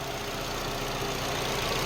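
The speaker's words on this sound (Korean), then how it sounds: "아주 조용한 엔진 소리입니다" A SsangYong Tivoli engine idles quietly and steadily, heard up close under the open bonnet as a low, even hum with no speech.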